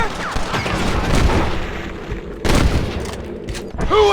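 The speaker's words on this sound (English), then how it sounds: "You're shooting fresh air there" Dense gunfire from a Red Dead Redemption western shootout, loud bursts of shots with booming reports and echo, swelling and easing over a few seconds amid game sound.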